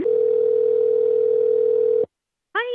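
A steady, loud telephone dial tone hums unbroken for about two seconds after a call is hung up in Fallout 4, then cuts to silence before a brief tonal sound begins.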